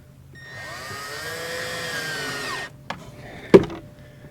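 A power driver fitted with a long Phillips bit whirs for about two seconds while assembling a hydroponic bucket garden, winding down in pitch as it stops, followed by a light tap and a sharp plastic knock close by.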